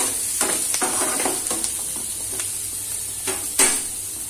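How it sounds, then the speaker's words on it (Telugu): Garlic and ginger frying in a pan, a steady close sizzle broken by scraping stirs and a sharper clatter near the end, with no talking. "ఇలా ఫ్రై అవుతుంది కదా"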